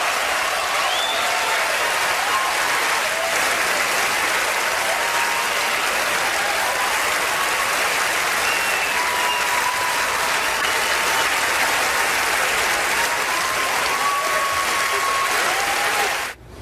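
Awards audience standing and applauding for Roman Polanski, a dense, sustained wash of clapping from a large crowd that holds at full strength for the whole stretch before cutting off abruptly at the end.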